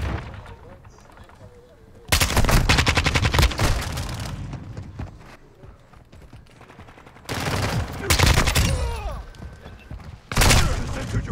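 Loud automatic gunfire in the video game Modern Warfare 2 comes in three heavy bursts separated by quieter stretches, with a voice talking faintly underneath.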